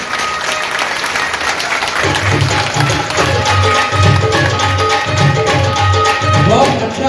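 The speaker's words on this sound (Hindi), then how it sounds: "सदन जितना ताली बजा सकता है पूरी टीम के लिए।" Hindi-speaking audience at a Jain community Holi gathering in Gwalior gives a sustained round of clapping for the organising team, steady and dense throughout with a faint murmur of voices.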